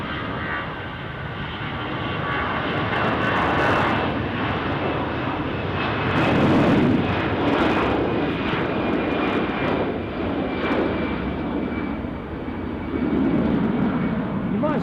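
An airliner powers up for takeoff at Düsseldorf airport, a loud broad engine roar that builds and holds, with a voice talking over it.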